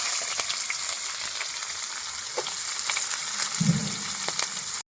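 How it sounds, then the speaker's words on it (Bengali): Fried potatoes and newly added onions crackle in hot oil, a steady close sizzle with scattered pops and a sharp knock at the very end. "এই যে আলুগুলো ভাজা হয়ে গেছে পেঁয়াজগুলো আমি দিয়ে দিচ্ছি একটু সাথে"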